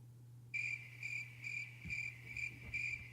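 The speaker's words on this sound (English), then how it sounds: "yeah, it's crickets. It's crickets." A cricket chirping sound effect plays as a steady series of rapid, evenly spaced trills, about five pulses, bright and clear over a low electrical hum and faint room noise.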